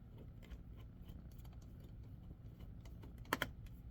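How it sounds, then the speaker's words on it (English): A screwdriver loosens screws on the back of a Dell Latitude 3520 laptop, giving faint scattered ticks and small mechanical rattles, then two sharper close clicks near the end, with no talking. "I'm going to start by loosening 1, 2, 3, 4, 5, 6, 7, 8, 9 screws."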